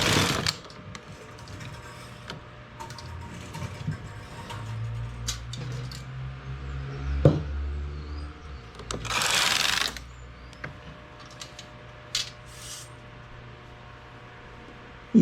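Knitting machine working a 2x2 rib in English rib stitch, making close mechanical clicks, rattles and sliding carriage sweeps in uneven bursts, with louder rasping passes near the middle and end.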